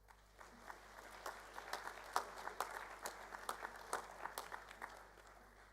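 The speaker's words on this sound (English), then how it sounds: "we'll give these guys a round of applause" Students at a school assembly applaud award recipients, fairly faint, scattered clapping from a modest crowd with distinct individual claps, swelling in the middle and continuing steadily over a low background hum.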